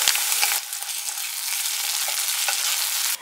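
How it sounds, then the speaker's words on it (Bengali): Roughly chopped onion fries in hot oil as ginger garlic paste is added for a chicken dish, a loud close hissing sizzle that jumps up in intensity after a moment, with light stirring clicks throughout. "এবার ওই তেলের মধ্যে কিন্তু রাফলি চপ করে নেওয়া পেঁয়াজটা অ্যাড করে দিলাম। পেঁয়াজটা ফ্রাই করতে করতে আমি জিঞ্জার গার্লিক পেস্ট অ্যাড করে দিচ্ছি।"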